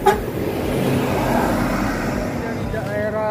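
An NPM executive Padang intercity bus passes on a road near Jembatan Ombilin, coming from Batu Sangkar: a continuous engine and road rumble with a sharp knock at the start and a horn-like tonal blast near the end.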